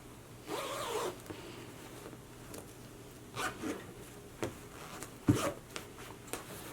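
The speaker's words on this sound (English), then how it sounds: "So now let's zip her up," A dress zipper pulled up in several short, scratchy bursts at close range, separated by quiet pauses, with no talking.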